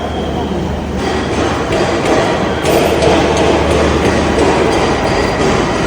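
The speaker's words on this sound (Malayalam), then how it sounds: "അവിടെയാണ് ഞാൻ പറഞ്ഞ ലോക്കൽ ട്രെയിൻ." A local train at Panvel station rumbles past loud and close in a continuous clattering roar that swells slightly partway through, with some speech faintly mixed in.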